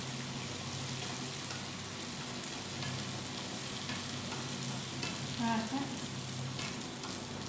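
Food being stirred while it fries in hot oil, giving a steady close sizzle with scraping stir sounds and a brief spoken word over it.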